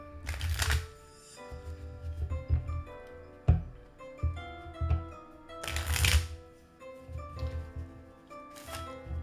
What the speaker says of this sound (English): Let's go ahead and shuffle here again.